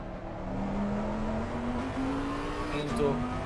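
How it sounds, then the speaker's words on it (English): Bentley GT3 race car at Donington Park in a racing video game: a steady engine drone climbs slowly in pitch as the car accelerates, with commentary talk faintly underneath. "we're going to only listen his fantastic engine, Bentley engine."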